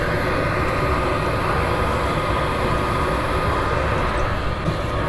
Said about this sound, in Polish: Pociąg Intercity 600 z Wrocławia